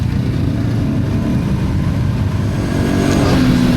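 A 2025 Kawasaki Brute Force ATV riding along a paved road toward muddy trails, its engine a loud, steady, close drone with a gentle rise in pitch near the end as it accelerates, no voices.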